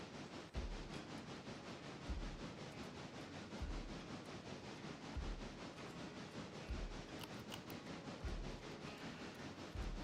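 A heavy freight train of 39 cars and about 2,916 tons runs in the railroad video game Railroader, giving a steady rolling rumble with regular low thumps of wheels passing over rail joints, with no talk.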